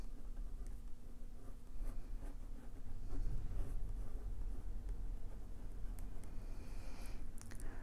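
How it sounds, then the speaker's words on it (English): A pencil drawing a dolphin's fin on paper, a close continuous scratchy scribble of strokes lasting several seconds, with no talk over it. "then you draw her fin"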